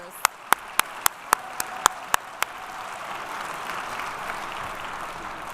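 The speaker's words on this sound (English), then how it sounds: "Let's have another round of applause for our officers." At a police awards ceremony, a few loud, sharp claps ring out singly at a steady rhythm, then give way to a broad, softer wash of audience applause that continues to the end.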